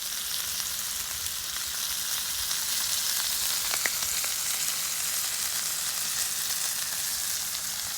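Bacon fries on a 36-inch Blackstone Culinary Series griddle, making a constant dense hiss of sizzling fat with a few faint crackles and ticks. The sound stays steady throughout, with no speech.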